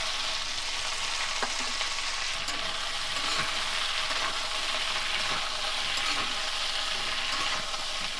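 Small fish fry in hot oil with panch phoron and kalo jeera in a Bengali village kitchen, giving a steady loud sizzle with occasional scraping clinks of stirring, and no voices.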